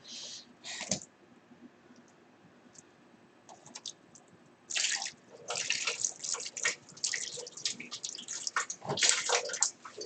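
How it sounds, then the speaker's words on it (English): Tap water runs in bursts during pottery work, starting and stopping several times with clicks and splashes at the sink, close and moderately loud. "Cold water out. Now put some hot water in."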